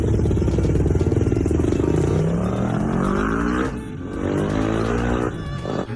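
A cartoon motorcycle with a big pickup roars through a loud rising rev, drops briefly, then surges again in a second climbing rev, close and harsh from start to finish.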